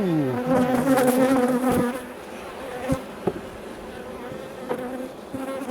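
A steady, droning hum of many honeybees buzzing close by in an open hive, clustered on the queen, with a few soft knocks and taps coming through the swarm.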